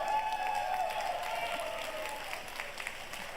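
Audience applause at the EVO Awards 2025, a fighting-game awards show, a steady wash of clapping and crowd noise held fairly level throughout, with a faint sustained tone running beneath.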